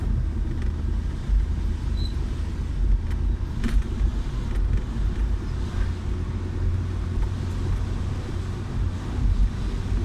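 A car climbs a gentle slope in second gear at low revs under a learner driver, giving a steady low engine rumble with wind buffeting the microphone throughout.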